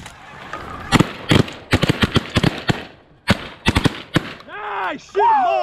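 Repeated shotgun blasts during a mallard duck hunt, several sharp reports in quick irregular bursts, loud and close, with excited hunters shouting between the volleys and a duck call quacking near the end.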